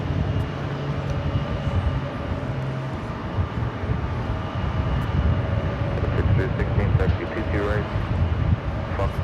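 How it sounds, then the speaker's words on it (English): A Delta Airlines Boeing 767-300ER taxis toward runway 13 right at JFK airport, its engines giving a steady, rumbling low whine from moderate distance while a voice talks over it. "Delta Airlines flight 767, the 767-300 ER heading to LAX, now rolling down to runway 13 right."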